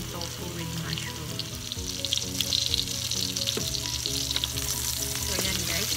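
Hotdogs fry in a pan with a dense, steady crackling sizzle, fairly close, with light stirring clatter and no talk heard.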